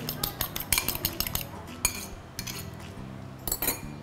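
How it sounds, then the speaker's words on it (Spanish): An egg beaten briskly with a fork in a bowl, a quick series of light metallic clinks and taps against the bowl, with a few pauses between bursts. "Voy a romper así el ligue del huevo"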